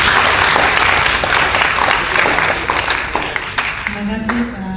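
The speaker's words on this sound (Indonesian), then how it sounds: "Mari kita berikan aplaus untuk terima kasih Pak" A university public lecture audience in Indonesia bursts into loud applause that carries on steadily and then begins to thin out. A voice can be heard over the clapping toward the end.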